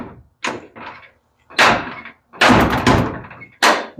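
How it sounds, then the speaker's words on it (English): A 1957 Chevrolet Bel Air door opens and closes several times, with loud, near metallic thunks and slams spaced irregularly through the clip and no talk over them. "The door opens and closes."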